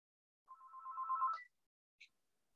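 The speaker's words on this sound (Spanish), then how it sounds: "alguien suena el teléfono" A telephone rings once with a steady electronic tone lasting about a second, followed by a brief higher chirp, clear and alone against silence.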